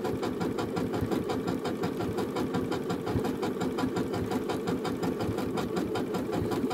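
A Janome sewing machine stitches a blind hem with a presser foot, running steadily in a fast, even mechanical whir with rapid rhythmic needle clatter, close and continuous throughout.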